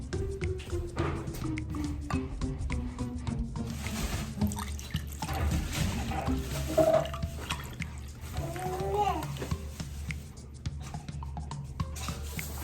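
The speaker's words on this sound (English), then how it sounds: "Put the water. slowly." Water poured slowly by hand into a dish for a floating-letter M&M chocolate candy experiment, a soft continuous trickle and dribble under light background noise, with a child and adult murmuring nearby.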